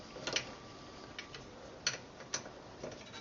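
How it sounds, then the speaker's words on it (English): A hand tool clicks quietly as two bolts are tightened on the rear brakes of a 1990 Mercedes-Benz W124 300CE coupe, with a few soft, irregular ratcheting ticks up close over a low background hiss. "And insert the 2 bolts into the rear, and then tighten the 2 bolts"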